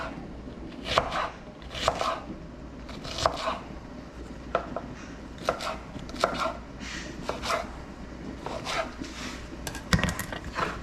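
An onion, greens included, is chopped with a knife on a board, giving a series of sharp, close, irregularly spaced chops with no talk.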